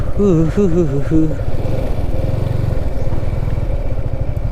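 A motorcycle on a Sunday ride near the Gangapur Dam backwaters in Nashik hums with a steady, close engine drone, and a voice sounds over it at the start.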